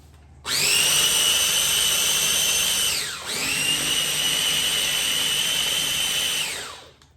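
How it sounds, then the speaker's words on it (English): A Vitamix-style blender grinds chia seeds in two loud whirring bursts, winding down briefly in the middle before revving again, then spinning down to a stop. "Blending it or processing it breaks a lot of it down."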